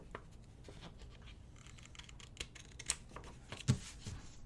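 Paper for a planner is cut with scissors, making soft crisp snips and scratchy rustles at close range, quiet and irregular, ending in a couple of sharper clicks.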